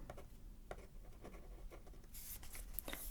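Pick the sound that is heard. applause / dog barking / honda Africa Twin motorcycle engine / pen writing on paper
pen writing on paper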